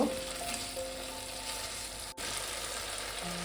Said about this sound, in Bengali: এটাকে আমি একটু ভালো করে আবারও নেড়ে নেব।